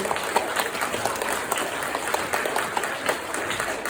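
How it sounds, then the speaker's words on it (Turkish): A concert audience at a holiday celebration claps steadily, a dense even patter of many hands, moderately loud and unbroken with no voices over it. "Küslü alkışlar menen"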